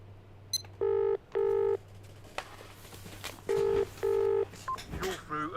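Telephone keypad dialing tones from a call to a cab company in the Barrow Hill video game, two loud bursts of beeps, then a pause, then two more, over a steady low hum.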